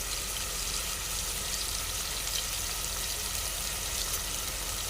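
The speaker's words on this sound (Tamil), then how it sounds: "தக்காளி நல்லா வதங்கட்டும்." Tomatoes cook with salt in a pan for a soya bean kootu, giving a soft, even, continuous sizzle that stays steady and moderately faint throughout, with no speech.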